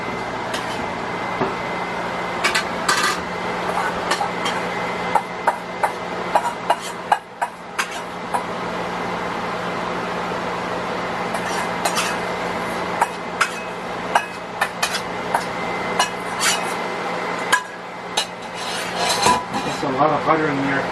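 Onions going into a pan of melted butter over medium heat while cooking butter burgers, a steady sizzle broken by scattered clinks and scrapes of a utensil against the pan, with light talk now and then.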